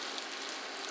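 Onions frying in a pan on a New Wave induction cooktop set to 300, giving a steady soft hiss and crackle throughout with no voices over it.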